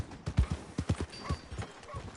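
Horse hooves clip-clop in a steady rhythm in the video game Red Dead Redemption 2, close and fairly loud, with a brief whinny toward the end.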